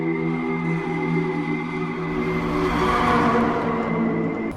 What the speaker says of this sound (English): Right now we are walking through the very famous Shibuya crossing.